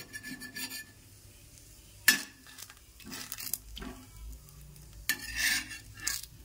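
A patishapta pancake filled with nolen gur sandesh is rolled and fried in a pan: soft sizzling under a few distinct spatula scrapes and metallic clinks, close and fairly quiet.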